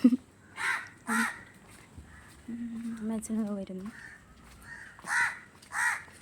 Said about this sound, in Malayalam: കാക്ക വിളിക്കുന്നു രാവിലെ തന്നെ.